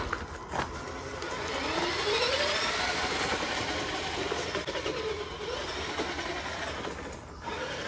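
A Tamiya King Hauler RC truck drives off-road through mud in third gear at full throttle, its electric motor whining steadily and rising in pitch, with rough rumble and crunching from the terrain underneath.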